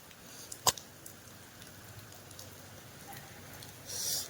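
Light, easing rain patters softly outdoors in a village, a faint steady hiss punctuated by an isolated sharp knock early on and a brief brighter swell near the end.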